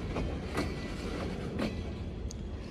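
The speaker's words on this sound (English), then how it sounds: "In Rutland Yard, I briefly watched the Rutland Switcher kicking cars as they organized the inbound" Freight cars being kicked by a switcher locomotive in a rail yard, with a steady low rumble, faint rail clatter and a few soft clanks at a moderate distance.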